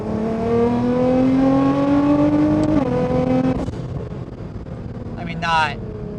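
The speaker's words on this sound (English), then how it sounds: "This car has an intake and an exhaust, sounds cool, looks cool" A Liberty Walk Nissan R35 GT-R with aftermarket intake and exhaust revs steadily, its pitch climbing, then drops off into a lower rumble; speech can be heard over the engine noise.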